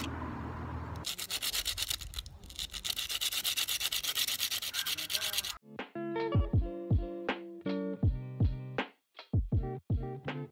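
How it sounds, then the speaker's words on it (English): Sandpaper scrubs steadily against coconut shell for about five seconds, a continuous loud rasping, before switching to a series of separate sharp tonal knocks and clinks that ring out with short decays. "I got my sandpaper and I'm going to sand them."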